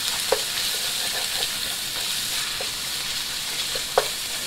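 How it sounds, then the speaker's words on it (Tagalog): Ground pork frying in hot oil in a pan, a steady close sizzle with a few sharp crackles and pops throughout, no talking. "Yan, lagay na ang giniling."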